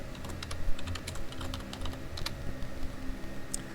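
Close, rapid keystrokes on a computer keyboard clatter in quick uneven bursts as a short phrase is typed into a spreadsheet cell.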